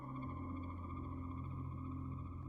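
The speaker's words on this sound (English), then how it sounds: "That's the sound of loading in." A steady, faint electronic hum with layered tones drones on without change: the loading-in sound of the game RimWorld.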